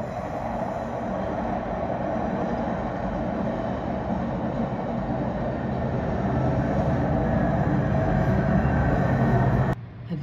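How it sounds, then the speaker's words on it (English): A Metra commuter train passes near Chicago, a loud, steady rail rumble with rolling wheel noise that holds for about ten seconds before cutting off sharply. "Oh, it's a Metra."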